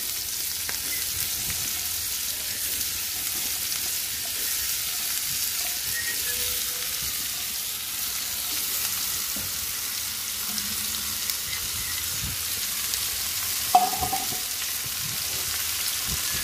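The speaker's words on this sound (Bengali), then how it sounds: "এখন করলাগুলো দিয়ে দিব" Bitter gourd slices sizzle steadily in hot oil with fried onion in a pan, a continuous close frying hiss with occasional scrapes and clinks of stirring and no voices.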